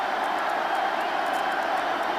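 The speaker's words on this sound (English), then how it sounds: "You wonder if the crowd noise isn't a little overwhelming right now" Roaring crowd in a baseball stadium during a 1996 Rangers American League Division Series game, a dense, loud, continuous wash of cheering with no clear gaps.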